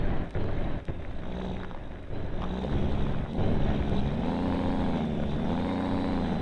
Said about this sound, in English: look at the engines, like listen to the engine sounds.